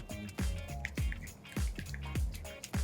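Thick yogurt tandoori marinade is stirred in a bowl, giving repeated wet squelching and dripping sounds in a quick, uneven rhythm, close and clear.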